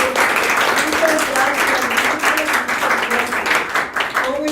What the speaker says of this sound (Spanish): vamos a aplaudir a los comentarios